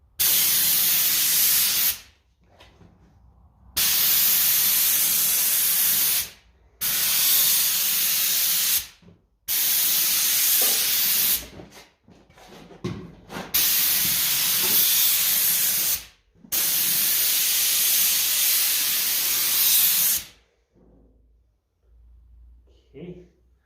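Primer sprayed onto Ferguson 20 TEF diesel tractor wheel rims, close and loud, in five long steady hissing bursts of a few seconds each, separated by brief pauses, with quieter handling noises between.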